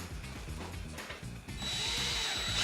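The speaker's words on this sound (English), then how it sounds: "I want to take my drill and my bit and I want to drill through my wood" A power drill with a bit bores through a piece of wood resting on scrap backing, its motor whirring steadily and rising in pitch and strain as the bit bites in, close and alone without talk.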